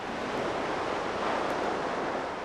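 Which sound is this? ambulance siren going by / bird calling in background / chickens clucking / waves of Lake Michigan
waves of Lake Michigan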